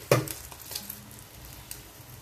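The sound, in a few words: makrouds frying in oil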